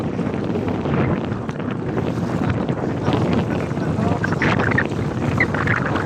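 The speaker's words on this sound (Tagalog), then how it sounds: "Sobrang lakas ng hangin." Strong wind blowing outdoors in a forest, buffeting the microphone with a steady, loud, rumbling roar for several seconds, with a muffled voice partly mixed in.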